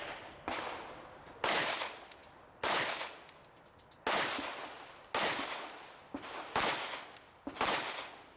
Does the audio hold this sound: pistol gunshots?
yes